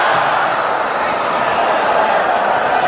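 A large arena crowd at a badminton men's doubles final roars and cheers continuously after a long rally, a dense, loud sustained wash of voices.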